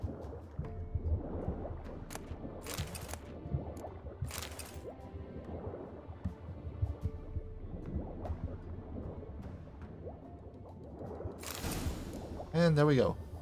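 A character wades through water in The Witcher 3: Wild Hunt, making soft squishing, dripping and splashing sounds that are faint and intermittent, with a brief sharper burst near the end.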